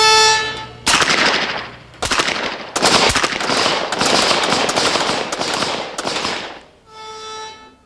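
Revolver shots crack out one after another on a 25 to 35-yard shooting range, loud and close, with heavy ringing tails running between them over a steady background hum.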